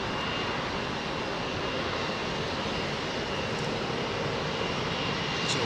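A Lufthansa airliner in old livery at London Heathrow gives off a steady, distant engine roar and broadband rush that stays even and fairly faint the whole time, with no one talking.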